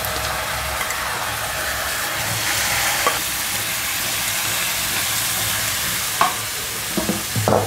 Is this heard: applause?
no